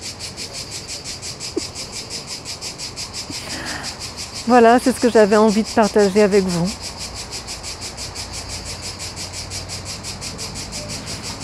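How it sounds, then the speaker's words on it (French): Steady, rapid insect buzzing of cicadas runs throughout, with someone speaking briefly in the middle over the continuous pulsing drone. "Et les cigales sont merveilleuses."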